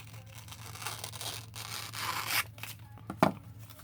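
Scissors cutting through paper scraps or gift wrap, a few short close snips and tearing rasps over a low steady hum, no talk.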